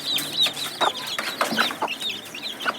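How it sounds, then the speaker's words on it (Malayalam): Country hens and chicks cluck and peep close by in a steady scatter of short calls, with no talk over them. "അപ്പോൾ ആ തള്ളക്കോഴി എല്ലാവരും ഉണ്ട് ഇവിടെ"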